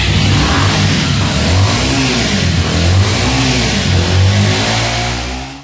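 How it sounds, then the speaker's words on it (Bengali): A second-hand Bajaj Avenger 160 fuel-injected motorbike revs close by, a loud continuous engine drone that rises and falls in pitch over several throttle blips before cutting off, with no voices. "আমি আপনাদেরকে একটু এই বাইকের সাউন্ড শুনিয়ে দিচ্ছি"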